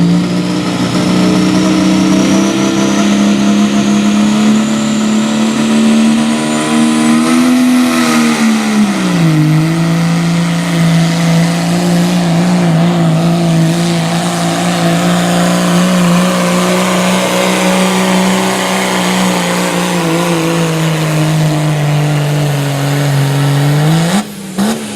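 At a Cecil County tractor pull, a modified diesel truck engine roars loud and close in a sustained drone, its pitch dipping and surging twice as the throttle is worked, with no talk over it.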